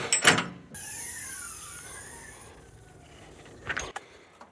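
The lid of a dry ice blasting machine opens with a brief clunk, then a steady mechanical whir with a falling tone runs under it before another close clatter near the end, all without speech.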